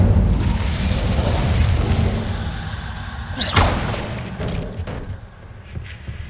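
A fire spell cast in the game Hogwarts Legacy bursts with a loud whooshing boom over a dense rumbling backdrop, then fades out as the scene goes quieter.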